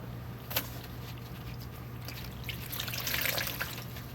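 Water splashing and trickling as a washcloth is rinsed, a soft, close liquid sound over a steady low hum, growing a little louder toward the end.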